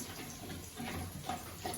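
Water poured into gram flour batter, a soft steady splashing trickle, faint and close, lasting a couple of seconds with no talking.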